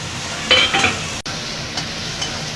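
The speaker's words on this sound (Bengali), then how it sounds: "আদা, রসুন, পেঁয়াজ আর টমেটোটা ভালো করে ভেজে নিয়েছি" Onion, garlic, ginger and tomato frying in a pan for a fish curry: a close, steady sizzle with brief stirring scrapes near the start, no talk.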